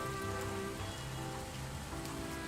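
Steady rain patters on a surface as a constant dense ambience, with a low tonal hum running underneath and no voices.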